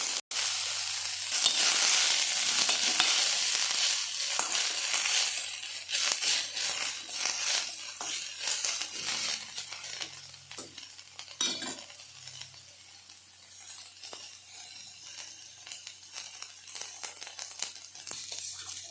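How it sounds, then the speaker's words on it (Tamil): Steady loud sizzling of finely chopped cabbage frying in hot oil in a wok, with occasional scraping and clinks of a utensil stirring in the pan. "முட்டைக்கோஸ் ஆயிலே நல்லா ஃப்ரை ஆனதுக்கப்புறம்"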